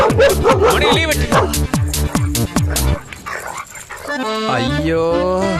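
An Indian army dog barks in a rapid run of loud, close barks, then whimpers and yips, with excited voices and film background sound in the later part.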